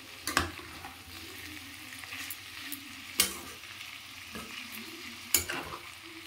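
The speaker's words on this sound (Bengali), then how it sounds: "এটা একটু নাড়িয়ে নেব।" Food being stirred in a frying pan, a steady soft sizzle broken by three sharp scraping knocks of the spatula against the pan, close and alone with no talk.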